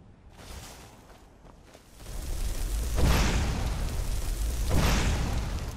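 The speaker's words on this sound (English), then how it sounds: "Let's get a Fire Bolt to get their attention." Fire Bolt spells exploding in a fantasy video game, with low booming blasts swelling into a sustained roaring rumble and two heavier impacts a couple of seconds apart, loud and close, no talking.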